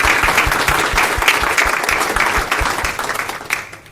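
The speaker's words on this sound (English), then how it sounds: "Let's give another round of applause." Loud, sustained applause rises from the audience at a women in tech event, a dense wash of clapping with a low thudding beat underneath, slowly fading near the end.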